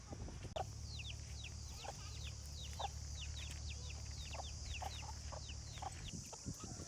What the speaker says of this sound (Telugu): మన కోళ్ళు ఎలా ఓపెన్ ఏరియాలో తిరుగుతూ ఎలా పెరుగుతున్నాయి